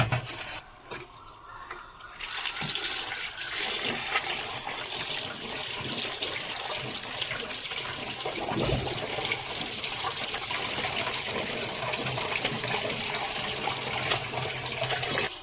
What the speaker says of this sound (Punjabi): ਇਹਦੇ ਉੱਪਰ ਦੇ ਆਪਾਂ ਠੰਡਾ ਪਾਣੀ ਪਾਵਾਂਗੇ